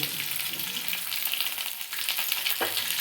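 Potatoes with turmeric and Maggi masala sizzle and crackle steadily in a pan while being stirred, a close, continuous frying hiss with small scraping bursts.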